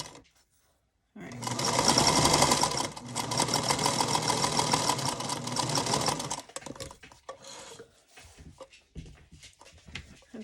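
A domestic sewing machine stitching down a quilt heart block, running in steady bursts with a brief pause, then slowing into scattered mechanical clicks and handling sounds.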